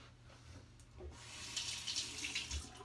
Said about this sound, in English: And when the head becomes filled with shaving cream, you just rinse it off.